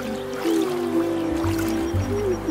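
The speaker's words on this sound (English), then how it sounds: "the comfortable sound of the humming fish humming while splashing around" Splashing pond water used as a sound effect, heard as a steady, fairly loud wash of liquid churning and trickling alone for a couple of seconds, with no voice over it.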